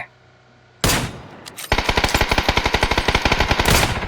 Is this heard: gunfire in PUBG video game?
yes